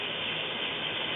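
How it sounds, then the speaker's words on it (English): Steady sizzling hiss with light crackle and popping, continuous and close, of veal breast frying in a hot pan. "You can hear it sizzling and popping."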